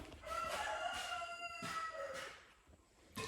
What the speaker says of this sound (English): Still hate that damn rooster.